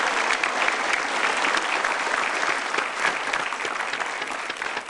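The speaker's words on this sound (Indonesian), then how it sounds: "Tepuk tangan untuk Pak Udar Pristono." Studio audience at an Indonesian television talk show breaks into sustained, dense applause that stays loud and steady for about five seconds, fading only slightly toward the end.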